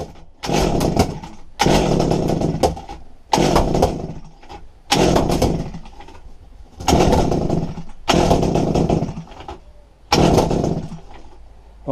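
A Kawasaki TF22 hedge cutter's small engine revs in about seven loud, rhythmic throttle bursts, each a sustained roar that drops away briefly between pulls.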